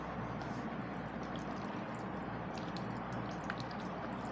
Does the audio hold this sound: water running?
yes